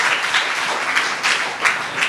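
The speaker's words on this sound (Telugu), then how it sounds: "చప్పట్లు కొట్టి దేవుని మహిమపరచుకుందాం." A church congregation claps together in praise to God, a loud, continuous wash of many hands with slight swells in intensity, close and unbroken by speech.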